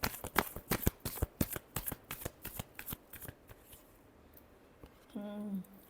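Tarot cards being shuffled in quick riffling bursts, a rapid run of crisp flicks and taps repeating for about five seconds, then ending in a brief soft rubbing sweep.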